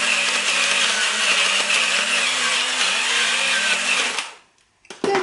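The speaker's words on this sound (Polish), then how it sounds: "Teraz ścieram ziemniaki i cebulę" Potatoes and onion rubbed on a coarse grater, a loud, rapid scraping buzz that runs continuously for about four seconds, then stops abruptly, followed by a brief clatter.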